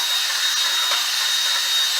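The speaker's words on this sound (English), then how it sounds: "going to drill the rust out of the hole. I just got a long drill bit" Long drill bit boring rust out of a wheel speed sensor hole on a 2009 Kia Borrego front hub, a continuous close, loud grinding whir with no pauses or talk.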